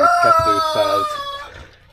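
Chickens cluck in quick bursts while a rooster's drawn-out crow rings over them, close and clear.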